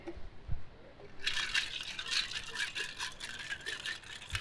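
A steady rattling clatter of ice shaken in a cocktail shaker with a margarita and sour mix for a few seconds, rapid and close, starting after a brief quiet moment, in an outdoor kitchen.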